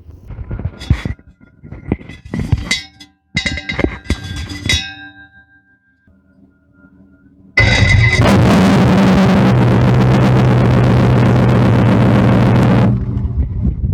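Clicks and brief mechanical noises, a pause, then a car engine cranks and roars to life, running loudly and steadily before cutting off.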